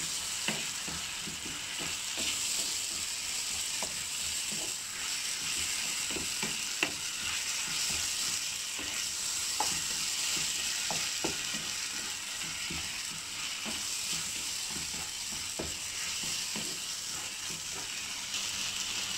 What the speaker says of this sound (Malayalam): പിന്നെ ബേ ലീഫ് ചെറുതായി കട്ട് ചെയ്തിട്ട് ഇട്ട് കൊടുക്കാം ഇത് നല്ലോണം മിക്സാക്കി കൊടുക്കാം